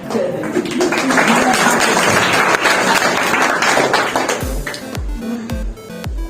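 An audience claps at a study centre's foundation day celebration in Hanswar, with dense, steady applause for about four seconds. It then stops abruptly, followed by a few isolated low thumps and pings.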